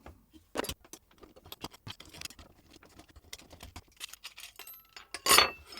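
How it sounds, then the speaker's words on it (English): Carl Martin Axis Flanger guitar pedal being taken apart: a run of sharp small metallic clicks, taps and rattles of screws and parts handled up close, uneven in rhythm, with a louder clattering burst near the end. "let's take the rest of the pedal apart"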